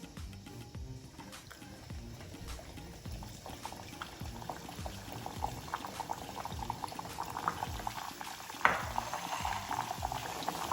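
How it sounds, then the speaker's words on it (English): Matar kachori frying in oil over a medium-low flame, a soft continuous bubbling sizzle that stays fairly quiet and even, with one brief clink partway through. "So now we're going to fry these under medium to low flame"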